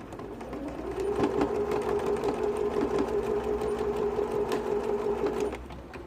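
A sewing machine runs a quarter-inch seam on a zip pocket: a steady, close mechanical whir with a fast stitching rhythm for about five seconds, then it stops.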